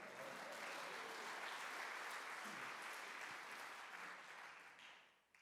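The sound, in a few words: audience applause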